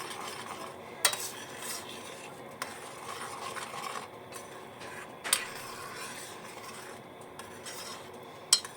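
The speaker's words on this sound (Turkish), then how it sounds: "Birkaç dakika bu şekilde kaynasın" Spiced tomato sauce simmering in a pan for beyti kebab, a low steady bubbling sizzle with occasional sharp clinks of a utensil against the pan, no talk.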